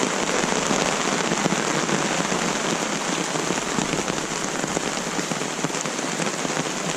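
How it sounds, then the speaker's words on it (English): Steady rain patters densely on a hard surface at a riverside campsite, a constant close hiss of drops with no pauses. "I think the rain's starting to let up a little bit."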